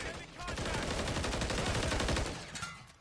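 Sustained automatic gunfire in Call of Duty MW3, a dense, loud, rapid stream of shots that runs almost the whole time before tapering off near the end.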